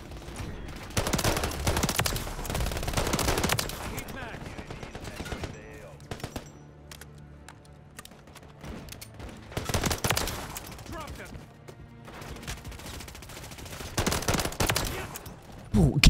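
Gunfire from a light machine gun in Modern Warfare 3 comes in loud bursts with pauses between, alongside other battle noise.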